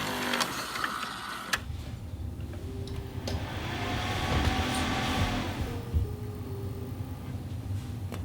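A home-built NAS server powering up, its cooling fans spinning into a steady broadband whir with low hum, a sharp click as it starts and a swelling rush of airflow, close and continuous without talk.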